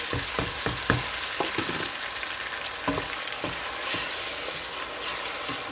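Chopped tomato and onion fry in a pan with a constant close sizzle, punctuated early by a quick series of scraping stirs and taps, then a steadier hiss.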